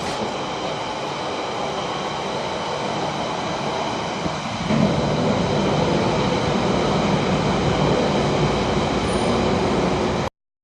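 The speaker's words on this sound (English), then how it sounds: "Let's get the train." DLR light rail train ride in London, a continuous loud rumble of the carriage in motion with wheel and track noise throughout, steady and close, with no talk.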